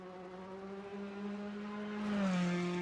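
A rally car races flat out on stage 9 of Rally Velenje in the Eastern European Rally Championship, its engine droning steadily at high revs, then pitching up and growing louder as it accelerates.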